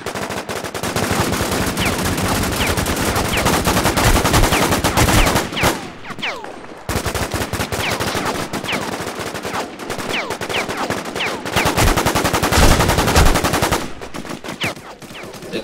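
Continuous automatic gunfire in the online shooter War Inc Battlezone, rapid loud bursts running almost the whole time with a brief lull midway, thin and dated in tone.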